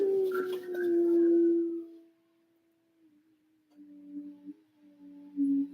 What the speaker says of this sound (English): the whole neighborhood's gonna howl now. My dog thinks he's a hound dog.